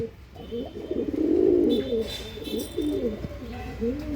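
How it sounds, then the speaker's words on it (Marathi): Black Andhra line breed pigeons coo in soft, warbling low calls that rise and fall repeatedly, close and fairly loud, with a faint high tone running behind. "ब्लॅक झेड कबूतर आहे मेल"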